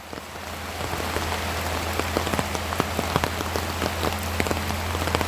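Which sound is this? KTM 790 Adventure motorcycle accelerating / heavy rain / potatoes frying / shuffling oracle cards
heavy rain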